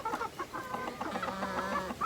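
Thirsty backyard hens cluck close by in a quick, overlapping series of short calls, with no talking over them.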